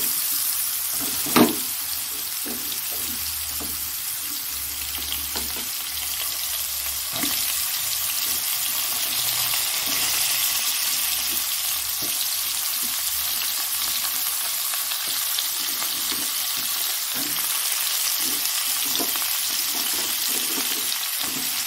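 Pieces of pointed gourd sizzle and fry in hot oil with cumin in a home kitchen, a continuous bright crackle with occasional clinks and stirring scrapes, steady and close throughout.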